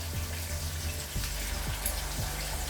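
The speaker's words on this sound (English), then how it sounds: "sizzle for a little while" Chicken wings fry in hot oil on a stovetop turned up to high heat, giving a steady, quiet sizzle and hiss with faint crackles throughout and no voices.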